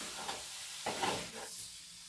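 Mushrooms, ginger and garlic sizzling in a hot pan, a steady soft hiss broken by a few louder stirring scrapes.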